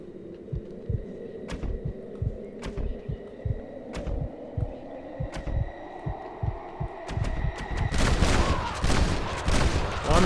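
Rapid gunshots from a 22-round gun in the Western video game Red Dead Redemption, a quick irregular string of sharp reports over game music and ambience, growing louder and denser toward the end.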